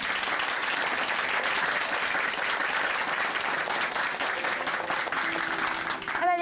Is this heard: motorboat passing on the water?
no